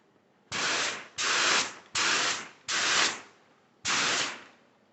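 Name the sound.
spray gun applying clear coat on 1985 BMW 635 CSI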